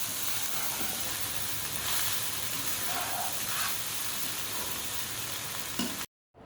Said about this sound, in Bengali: আমি আরেকটু ভালোভাবে ভেজে নিব।